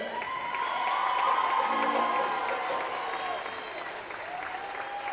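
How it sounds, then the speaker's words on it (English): A large crowd at a high school girls' basketball senior night applauds continuously, with cheering and high shouts rising over the clapping, loud and sustained throughout. "let's have one big final round of applause"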